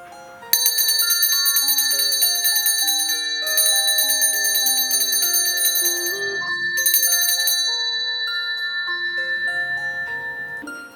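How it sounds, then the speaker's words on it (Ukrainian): A first school bell at a gymnasium's September 1 start-of-year ceremony rings out as a loud, bright electronic chime melody, sustained clear tones repeating in phrases for about ten seconds with no talk. "пролунає перший дзвоник, який запросить на перший урок"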